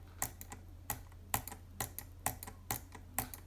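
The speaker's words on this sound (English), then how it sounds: "You can hear that I'm double clicking every single time I butterfly" Rapid butterfly double-clicks on a Kain 100 Aimo gaming mouse, sharp little clicks arriving in pairs and clusters at an uneven pace, quiet and close, with no speech.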